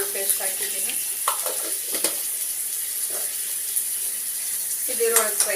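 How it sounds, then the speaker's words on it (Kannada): Onions frying in a pan with ginger-garlic paste, a steady close sizzle broken by several scraping stirs of a spatula, with faint background noise throughout. "ಈರುಳ್ಳಿ ಫ್ರೈ ಆಗ್ತಾ ಇದೆ."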